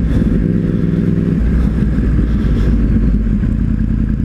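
A 1000cc motorcycle rides through city traffic with a loud, steady engine drone and low rumble close up, with slight clatter and shifts in revs throughout.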